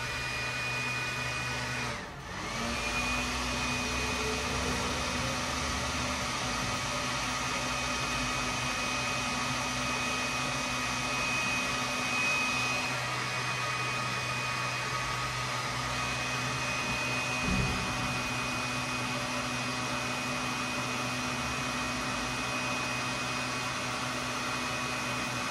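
A blow dryer with an electrical fault runs continuously up close, a loud steady whirring hum that briefly dips and surges early on, then holds for the rest of the stretch.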